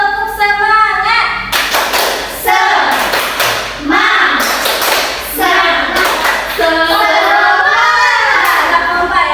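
Children in a classroom perform a rhythmic group clapping chant, with bursts of sharp hand claps and thumps interleaved with loud chanted voices throughout.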